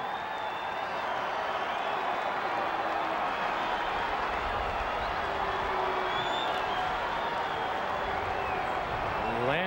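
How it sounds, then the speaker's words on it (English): Cubs fans in a Denver ballpark cheering for Nomar Garciaparra during a Cubs–Rockies game, a steady broad roar of crowd noise that holds for the whole stretch, with a distant hum of voices underneath. "the Cubs fans here in Denver, one more chance to cheer Nomar"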